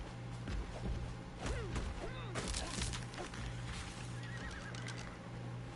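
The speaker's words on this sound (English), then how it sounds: "I hear you, horsey. You're a good horsey." A horse in the video game ARK Ragnarok whinnies several times with rising and falling neighs over a steady in-game ambient drone and faint hoof clops, with a voice audible in the background.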